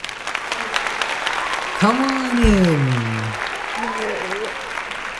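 A small group claps steadily for a guest, a continuous patter under a voice speaking over it.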